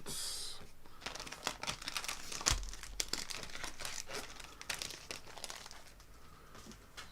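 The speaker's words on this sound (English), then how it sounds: "I'm just going to put my bedazzling paper away" Sheets of decorative bedazzling craft paper are gathered up and put away, giving close, loud crinkling and crumpling with sharp rustles and crackles that come in bursts throughout.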